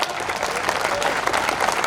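Steady, dense audience applause at a devotional stage performance, continuous and fairly loud across the whole moment with no pauses.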